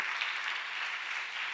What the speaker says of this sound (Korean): 우리 응원의 박수로 우리 한번 박수 환영하도록 하겠습니다.